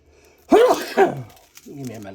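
A person coughs twice in quick succession, close and loud, then makes a short voiced sound afterward.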